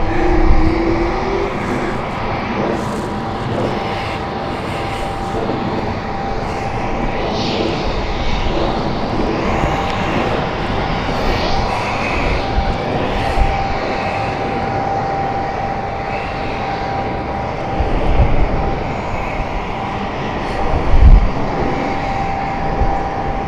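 An Airbus A220 jet at London City Airport, a loud sustained engine roar building and holding, close and continuous with no talking.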